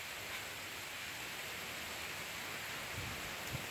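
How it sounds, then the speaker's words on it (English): Steady, dense hiss of heavy rain pouring down during a thunderstorm in Newfoundland, continuous and fairly even throughout, with a faint low rumble near the end. "And that's rain you're seeing."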